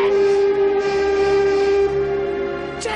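Tugboat steam whistle from the TUGS model-boat series, a single sustained loud tonal blast held for nearly three seconds, then tapering with a short hiss at the end.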